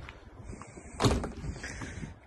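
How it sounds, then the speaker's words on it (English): French doors of a house are opened with a single close clunk, followed by a short rattle of the frame and latch, with no voices. "so out the French doors"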